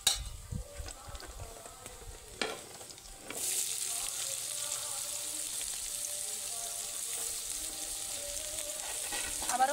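Chopped onion frying in oil in a wok, a few stirring knocks at first, then a sudden loud broad sizzle that swells and holds steady, close by.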